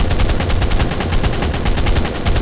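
Rapid automatic gunfire from the mobile game ARK fires in a fast, loud, unbroken burst of evenly spaced shots that lasts the whole stretch, close and harsh, with no voices over it.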